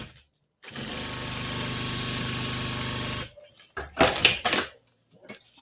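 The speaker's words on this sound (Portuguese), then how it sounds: "Faço outra costura aqui." A sewing machine stitches a seam through fabric layered with clear plastic for a zippered pouch with a transparent window, a close, steady mechanical whir of about two and a half seconds, followed by a woman's brief speech and handling noises.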